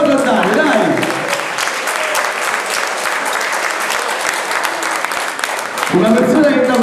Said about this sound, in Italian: dai un applauso a Dario, dai!